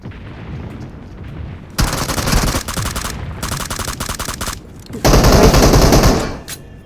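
Gunfire in the mobile battle game PUBG Mobile, loud and close: dense automatic bursts cut off by short gaps, with a final heavier burst before it stops.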